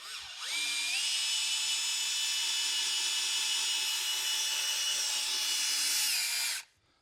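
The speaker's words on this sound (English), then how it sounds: "so I switch the direction of my drill" A power drill running in reverse whirs steadily at a high pitch for several seconds, close by, then winds down and stops.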